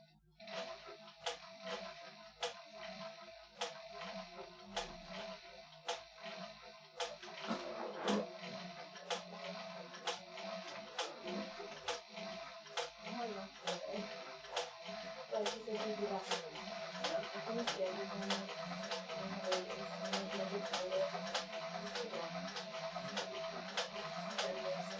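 An industrial sewing machine stitches heavy material with a rapid string of sharp, evenly spaced mechanical clacks over a low motor hum, running steadily for a long stretch with faint talk at times.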